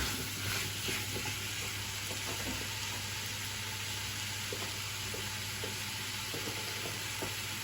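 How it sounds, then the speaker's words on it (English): Onions, garlic, rosemary and carrots fry and caramelise in a pan for a beef casserole, giving a steady, even sizzle of hot oil that carries on without pause, with faint scattered ticks underneath. "in here you've got onions, garlic, rosemary, and now carrots, and we're just trying to caramelise them a little bit"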